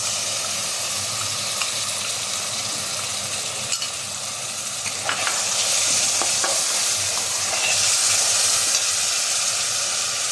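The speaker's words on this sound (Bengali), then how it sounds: "এখন মশলাটা কষাতে থাকবো, তেল ওঠা পর্যন্ত অপেক্ষা করব।" Cumin, ginger and chili spice paste sizzles and fries in hot oil while being stirred, a steady crackling hiss with occasional scrapes and clinks of the utensil, the sizzling growing louder toward the end.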